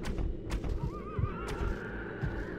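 Horse neighing in the Red Dead Redemption video game, a single rising-and-falling whinny over faint hoof clip-clops and soft background sounds, moderately loud and without talk.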